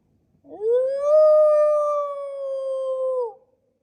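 A person imitates an animal howl outdoors in upstate New York, one long, loud, close, steady wailing tone that rises at the start, holds for nearly three seconds and drops off at the end, with no other sound.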